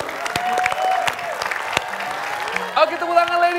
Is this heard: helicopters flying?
no